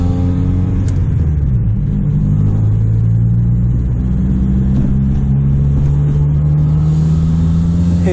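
A 1994 Honda Civic fitted with an eBay aftermarket exhaust runs steadily up close, giving a deep, droning low-RPM rumble with a slowly rising engine tone and no voices.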